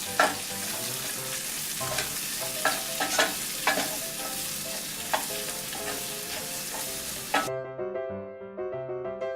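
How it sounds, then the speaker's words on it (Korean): Vegetables stir-frying in coconut oil in the same pan used for the meat, a steady sizzle broken by repeated sharp scrapes of a stirring utensil, cutting off abruptly to quiet near the end. "같은 팬을 이용해서 코코넛 오일을 넣고 야채를 볶아주세요."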